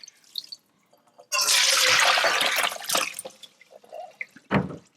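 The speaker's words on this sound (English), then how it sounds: "So now we're going to drain away all that water." Water drained from a bowl of rinsed pork ribs gushes out in a loud, steady rush for about a second and a half, then trickles and splashes intermittently before a final brief pour.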